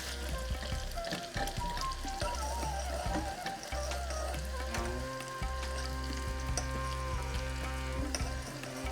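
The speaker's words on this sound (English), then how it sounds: "Oh, chili and garlic in ghee, heaven." Chili, garlic and curry leaves fry in hot ghee for a dal tadka, giving a steady, close sizzle and crackle that runs the whole time with no talking.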